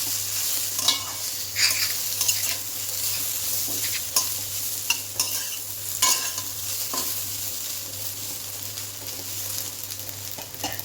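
Pointed gourd and ridge gourd peels fry in a pan with a steady, close sizzle, broken by the scrapes and knocks of a spatula stirring them. No one speaks.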